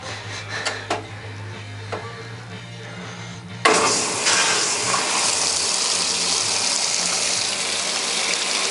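A new washing machine, model 9100X1WO, starts filling: after some quiet clicks, water suddenly gushes in with a loud, steady rushing hiss that continues to the end, close by with no talking.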